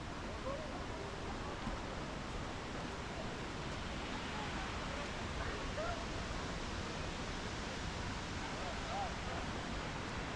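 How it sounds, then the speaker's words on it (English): The Ouzoud waterfalls in Morocco, among the tallest in North Africa, give a steady, dense roar of falling water that stays even and unbroken throughout, with no clear voices standing out above it. "just to go in front of the waterfalls to enjoy the sound and the water."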